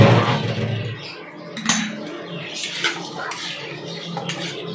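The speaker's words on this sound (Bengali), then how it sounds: "এখন আমি ঢাকাটা তুলব।" The lid comes off a cooking pot of simmering sago khichuri with lentils and vegetables, a close metallic clink and scrape followed by lighter clatters over a soft watery background.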